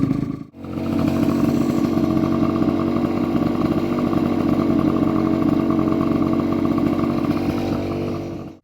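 Honda Vision scooter fitted as a bosozoku-style build, its engine starting after a brief gap and then running at a steady buzzing drone, close and loud, fading at the very end.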